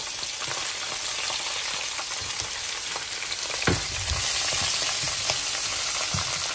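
Onions with green chillies, coriander and mint frying in ghee or oil for chicken mandi rice, a steady close crackling sizzle with a few sharp pops and a slight swell in the second half, no talking.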